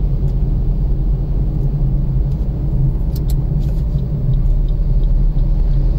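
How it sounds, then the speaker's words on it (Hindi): A car creeps slowly through patchy seasonal fog on a road near Rajaji National Park in Uttarakhand, and a loud, steady engine and road rumble fills the whole stretch with nothing else heard. "और गाड़ी एकदम धीमी कर ली है मैंने।"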